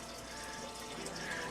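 Hot water runs into a home-brewing vessel to fill 38 liters for the sparge, a steady faint rush and splash of pouring liquid throughout.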